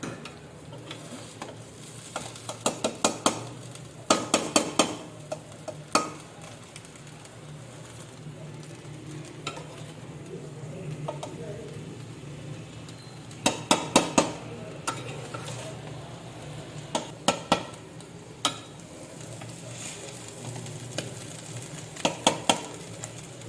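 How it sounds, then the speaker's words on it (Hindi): Coloured zarda rice with tutti frutti is stirred in a pot, bursts of scraping and clinking from the spoon recurring in short clusters against a quiet kitchen background, no talking. "अब इसको चला देंगे।"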